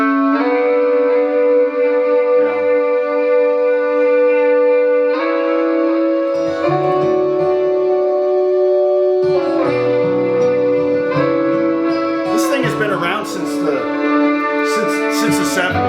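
High and low doubled electric rhythm guitar parts from the Apex Legends lobby music play as a steady sustained chordal riff, loud and continuous, with thicker low layers joining partway through and a busier, brighter texture near the end.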